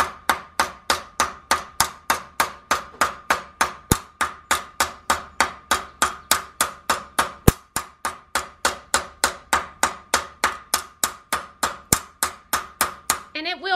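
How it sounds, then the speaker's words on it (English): Metal craft letters hammered from the back with the rounded face of a hammer, a long run of evenly spaced sharp metallic strikes, steady and close, roughly two blows per second. "We're just using the rounded part of the hammer."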